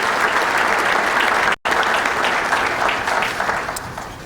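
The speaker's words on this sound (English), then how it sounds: "let's have a round of applause" Audience at a chamber of commerce breakfast applauding, with loud, dense clapping that holds steady, cuts out for a moment, then resumes and slowly tapers.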